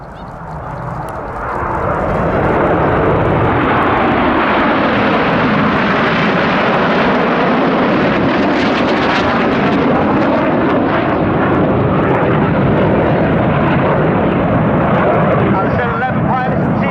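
Red Arrows jets of the Royal Air Force aerobatic team roar past during an air show display, a loud sustained engine rumble and whoosh that swells in and stays strong as the formation rolls overhead, with a commentator talking over it.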